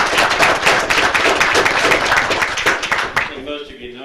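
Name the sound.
audience applause at city commission meeting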